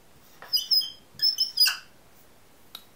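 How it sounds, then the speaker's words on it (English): A very squeaky pen writes on paper in a few short, high-pitched squeals, grouped strokes with brief gaps, near and clear in an otherwise quiet room. "Very squeaky pen."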